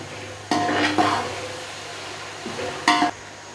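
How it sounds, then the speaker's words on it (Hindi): Carrots and shredded cabbage tipped into a frying pan with peas for vegetable fried rice, giving two short bursts of sizzling and stirring clatter against a low steady kitchen hum, close and fairly loud. "अब मैं इसमें डालूँगी गाजर और साथ ही इसमें मैं डाल रही हूँ बंद गोभी"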